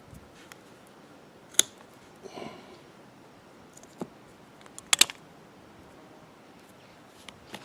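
Scissors trim the excess off a tire plug in a quiet setting. A few sharp, isolated snips and clicks are spread across the stretch, with two louder cuts standing out against faint background rustling.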